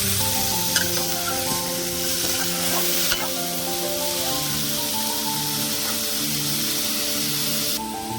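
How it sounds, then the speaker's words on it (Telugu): Pieces of ridge gourd sizzle and fry in hot oil, a continuous crackling hiss that stays close and steady, with faint clinks of stirring and no voices. "ఇప్పుడు కట్ చేసి పక్కన పెట్టుకున్నటువంటి బీరకాయ ముక్కలు వేసుకుందాం"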